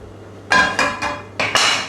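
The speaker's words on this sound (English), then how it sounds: "I'm going to take the pine nuts off the frying pan" Pine nuts come off a frying pan during weeknight cooking of quinoa with courgette and halloumi, giving five sharp metallic clinks and scrapes spaced unevenly over a quiet kitchen background.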